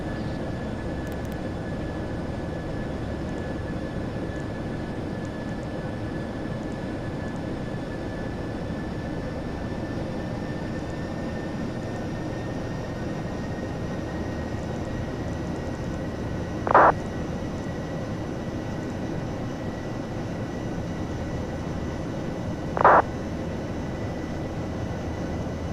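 A Ryanair airliner climbs toward flight level 380 from inside the cabin, heard as a constant broadband engine and airflow roar with a faint steady tone and two brief clicks.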